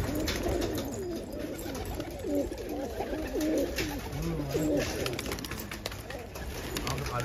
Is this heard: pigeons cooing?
yes